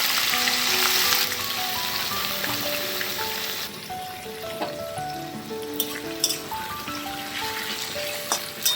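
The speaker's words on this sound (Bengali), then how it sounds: "এরপরে আমি পেঁয়াজ কুচিটা এর মধ্যে দিয়ে দিচ্ছি" Chopped onion hits hot oil already seasoned with cumin seeds and bay leaf, giving a loud hiss that settles into steady frying sizzle with occasional stirring scrapes and tonal clinks.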